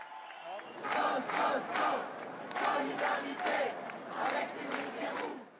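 A crowd outside a courthouse cheering and chanting for Cédric Herrou as he arrives, rhythmic rising-and-falling bursts of massed voices repeating in waves, moderately distant and sustained throughout.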